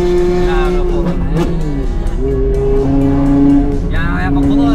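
Close-up revving from a car with an S85 engine: repeated rising pitch sweeps over a thick, steady engine tone, with voices faintly present alongside.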